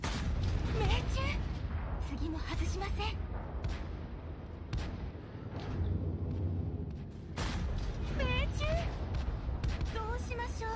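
Tank cannon shots from a D.W. 2 in World of Tanks Blitz, several heavy booms spaced across the stretch amid engine rumble and game effects, with someone talking over them.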